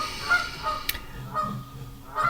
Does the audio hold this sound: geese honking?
yes